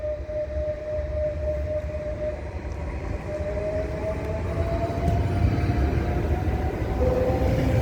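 A train pulls out of Ripoll station bound for L'Hospitalet, its steady low rumble and a thin sustained tone growing gradually louder over several seconds, close by and with no voices.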